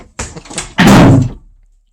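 A door slams shut with a loud, sharp thud that rings out briefly and fades, following some faint earlier sounds; no talking over it.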